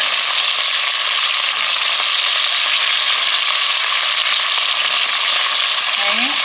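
Meat browning in a pan for Texas chili, a steady loud sizzle and frying hiss throughout with light stirring, and a brief word spoken near the end.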